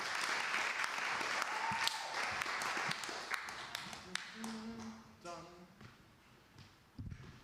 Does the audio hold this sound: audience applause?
yes